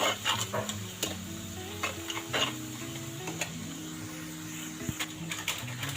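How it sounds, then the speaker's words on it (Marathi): Spice masala roasting in oil in a pan for a Maharashtrian brinjal dish, with repeated scraping and clinking of a spatula against the pan over a low background sizzle, close and fairly quiet. "आता मसाला मस्तपैकी भाजून घेऊया"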